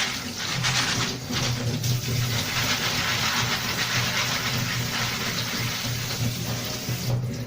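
Water runs steadily over pasta being rinsed before cooking for spaghetti, a broad continuous splashing wash at close range with a low hum beneath, unbroken and without talk.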